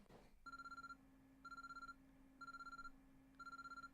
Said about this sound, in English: An urgent-sounding ringing noise suddenly ran through the room.